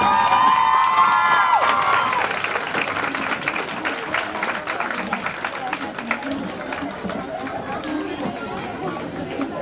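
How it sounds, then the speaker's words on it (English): Audience applause and clapping fill a nursing conference hall, a dense steady wash of hands with crowd chatter and some cheering mixed in, holding loud for the whole stretch. "So once again, extending ovation and clapping for Dr. Dipti Shukla."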